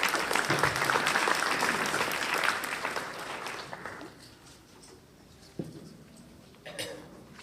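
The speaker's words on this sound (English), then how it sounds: "Another round of applause." A crowd at a Sunday church worship service applauds loudly, the clapping fading out over several seconds into a quiet room with a few scattered claps and small noises.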